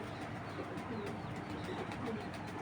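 Pigeons coo softly among a pair of Beji breed birds kept with Pakistani Giribaz high flyers, a low continuous murmur under a faint noisy background.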